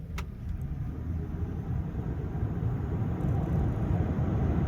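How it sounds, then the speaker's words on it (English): A 2025 Ford F-150 Lightning Flash electric pickup pulls away from a traffic light at about half throttle, giving a steady, building road and drivetrain rumble heard from inside the cab, with no talking. "Let's test some acceleration here."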